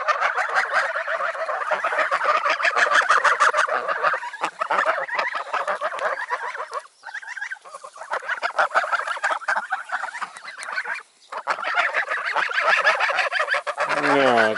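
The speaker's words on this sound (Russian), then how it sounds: "Такие у нас гуси." A flock of geese honks and cackles nonstop at close range, a dense, noisy chorus with only brief lulls.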